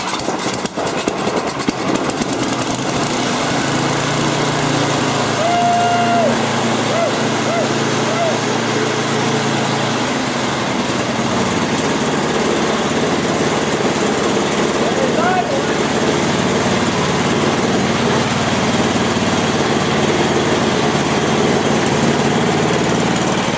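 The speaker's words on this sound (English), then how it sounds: "we're all ready to start these. I got them all back together. Put it on fast. Put on the choke. Let's see how they run." Tecumseh snow blower engine running after a carburetor rebuild, choke on and throttle at fast, a continuous close, loud buzzing idle that holds steady alone throughout.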